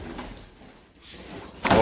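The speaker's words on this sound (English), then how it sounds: "door fell off." A Jeep door falling off, giving a short scraping slide and a thud that builds into a louder clatter at the end, close by.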